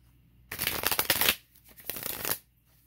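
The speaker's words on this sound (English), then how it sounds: "I'm going to have to shuffle because I thought I had all the cards." A deck of tarot cards is riffle-shuffled twice close to the mic, each burst a quick run of crisp flutters, with brief quiet before, between and after.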